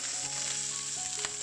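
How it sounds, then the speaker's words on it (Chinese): Pork belly frying in rendered lard in a pan, giving a steady close hiss and sizzle with small crackling pops and a sharper spatter near the end. "锅里面那些全部是猪油来了，一边反它那个油就溅出来了，所以煎的时候要小心哦"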